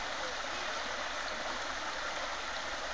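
Steady, dense rush of creek water flowing over small rapids at Williams Creek in Langley, close and continuous throughout with no breaks or talk.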